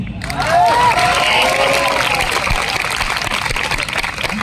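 Steady, loud crowd applause at a Hindi kavi sammelan comedy poetry gathering, a dense wash of clapping from a large audience with faint voices and whistles mixed in, sustained throughout.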